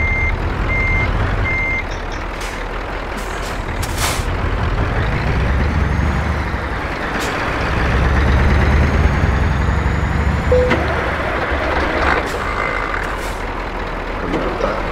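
In a truck driving game set on a route from Manaus to Autazes in Amazonas, a truck reverses with a rumbling engine, hissing air brakes and a repeating beep-beep warning sounding throughout.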